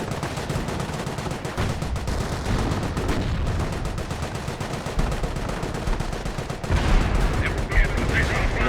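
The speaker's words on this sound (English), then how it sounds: "Artillery barrage right up here." An Earthshaker artillery barrage in the video game Company of Heroes, heard as dense, continuous rapid explosions and gunfire rumbling loudly throughout, with a commentator talking over it.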